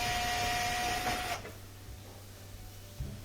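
A power driver whirs steadily as it backs bolts out of the top panel of a Maytag laundry center washer, then cuts off, leaving quiet handling noise and a brief final buzz.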